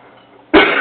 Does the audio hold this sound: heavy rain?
no